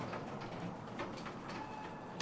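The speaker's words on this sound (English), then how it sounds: "that sound is close enough to the sound of an escalator just going down" A clattery escalator going down sounds as a continuous mechanical hum with light, irregular ticking and rattling throughout, ending in a brief sharp hiss.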